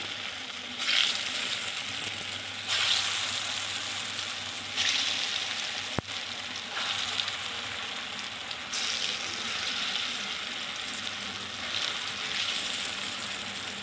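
Split pea fritters deep-fry in hot oil, giving a steady, dense sizzle and bubbling that swells and eases slightly across the whole stretch, close and continuous with no talking.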